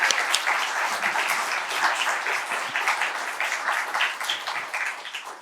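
A crowd applauds at a 2024 international school's opening chapel service, a dense, steady wash of clapping sustained loudly throughout without a break.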